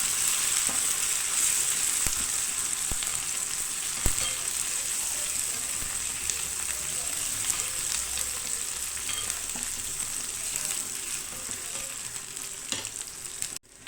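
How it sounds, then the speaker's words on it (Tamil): Small onions frying in a pan for sambar make a continuous close sizzle with scattered crackles and pops, steady throughout and heard alone. "இப்போ வந்து வெங்காயம் இந்த அளவுக்கு பொறிஞ்ச உடனே தக்காளி சேர்த்துக்கலாம்"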